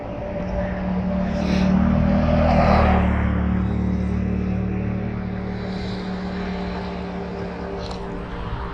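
A steady vehicle engine rumble swells and then holds as cars roll past nearby on the Natchez Trace bridge, with no voices.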